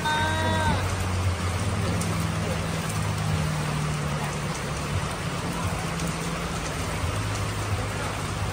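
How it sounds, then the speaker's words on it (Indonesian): Heavy rain falls steadily in a continuous close hiss, with a low engine drone underneath and a brief sliding tone near the start. "Hujannya semakin deras."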